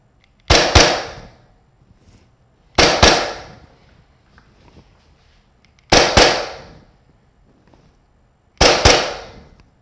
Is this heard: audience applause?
no